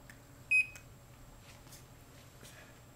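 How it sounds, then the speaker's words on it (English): A single short, high electronic beep from an ExpressCube dimensioning scale recording weight sounds once near the start, then only faint room noise follows. "As soon as you heard the beep there and everything"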